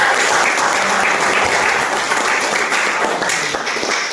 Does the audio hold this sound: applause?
yes